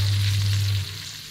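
A woodcock sizzles and spits as it cooks in a hot pan before going into the oven. The close, steady frying hiss runs alone under a low hum that cuts off partway through.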